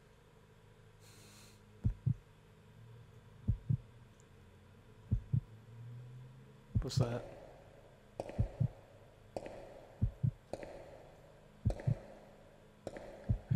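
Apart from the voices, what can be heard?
heartbeat sound in video game Resident Evil Code Veronica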